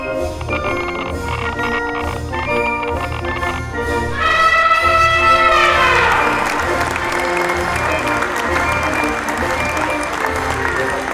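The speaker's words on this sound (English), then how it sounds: "just general crowd noise." Crowd applause with general crowd noise, a dense steady clapping wash that swells a little midway, with some music-like tones underneath, heard on its own.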